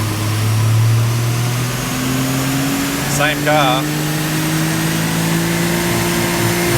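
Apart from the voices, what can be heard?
660cc AWD kei car engine revving on a dyno run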